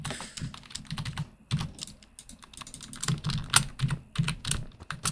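Number keys on a computer keyboard are tapped in quick, irregular bursts of close, crisp clicks, with brief pauses between runs and no talking.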